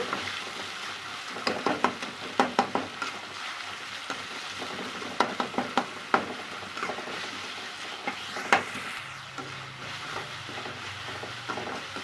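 Tomatoes with a pinch of salt sauté in a pan for a tawa egg curry gravy, giving a steady soft sizzle with repeated scraping and stirring knocks from a spoon against the pan, and no talk.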